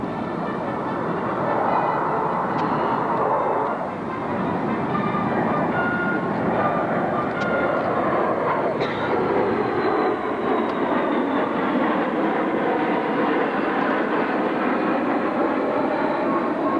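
An airplane making a low-speed pass overhead at an airshow, a steady loud engine roar that holds for the full stretch with a slowly shifting pitch and no talking over it.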